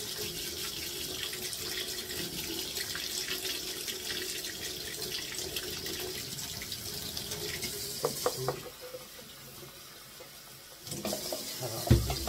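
Hot water running steadily from a kitchen tap into a sink to rinse off baking soda and soap, a continuous close splashing flow that briefly thins out before resuming with a few knocks.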